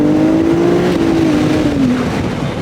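Ferrari 296 GTS engine holding high revs, around 5500 rpm, with a steady droning tone that sags slightly near the end, loud and continuous with no talking.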